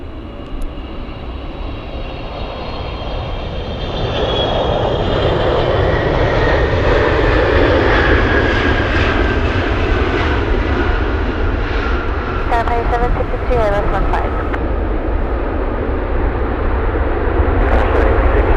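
A National Airlines jet at Anchorage airport on a gusty day, its engine roar swelling from moderate to loud and holding steady as it passes close by, with people talking over it.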